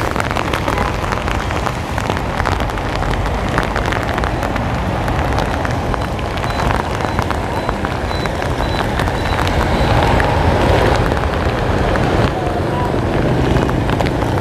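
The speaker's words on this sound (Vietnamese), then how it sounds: "Sài Gòn mùa này thì rất là nhiều mưa." Heavy rain pours steadily on pavement and surfaces of a city street in Saigon's District 1, dense and close, with traffic and faint voices blended into the downpour.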